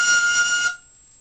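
A single fife note, fingered with one more finger lifted, rings out clear and bright for about three-quarters of a second, then stops abruptly into silence.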